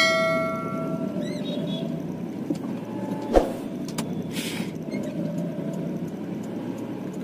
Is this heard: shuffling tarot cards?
no